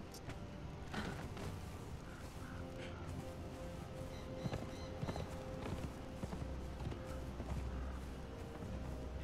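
A horse's hooves clip-clop in steady rhythm in Conan Exiles: Isle of Siptah, close and fairly quiet, with creaking and faint mechanical game sounds around them.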